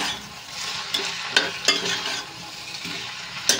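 Eggplant frying in a pan for a curry with prawns and eggs, a continuous close sizzle broken by a few sharp scrapes and taps of a stirring spoon.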